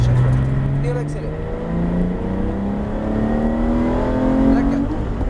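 A Porsche GT3 RS accelerates hard on a race track, its engine note climbing steadily through a gear, loud and close inside the car, with a driving coach talking over it.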